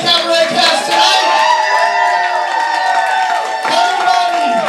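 Loud, continuous crowd cheering, whooping and clapping fills the room for the cast of a Cosplay Cabaret stage show in New York, sustained without a break with occasional louder shouts rising above it.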